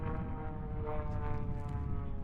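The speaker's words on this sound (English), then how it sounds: "He's got that. He's got our plane wound up." A propeller aerobatic plane drones through a flight display at the British aerobatics championships, its engine a steady, moderately distant hum heard alone.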